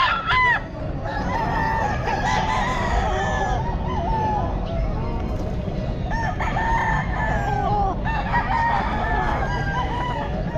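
Chickens cluck continuously while a rooster crows repeatedly at a busy pet market in Bocaue, Philippines, with a dense, steady crowd and bird din throughout.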